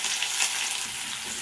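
Onions frying in oil with mustard seeds in a pan for a fish curry, a steady broadband sizzle throughout with faint stirring, close and alone, no talking.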